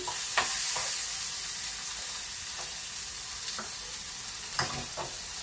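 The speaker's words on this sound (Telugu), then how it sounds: "ఆయిల్ వేసుకొని అల్లం వెల్లుల్లి పేస్ట్ వేసేసి" Ginger garlic paste frying in oil for a beans curry, an even hiss of sizzling with occasional spatula scrapes against the pan, moderately quiet and close.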